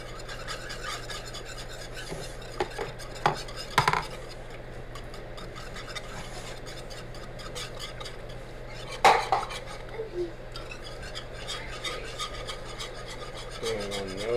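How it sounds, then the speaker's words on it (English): A whisk scraping and rasping steadily around a skillet of brown gravy for pork chops, working out the lumps, with sharper clinks of metal against the pan now and then; close and fairly quiet, with no talk. "Whisking all those lumps out of there."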